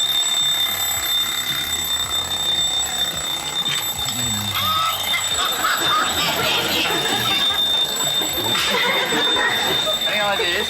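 An alarm clock rings continuously on a noisy television quiz show, its steady high tones sustained for the whole stretch under studio chatter and background noise.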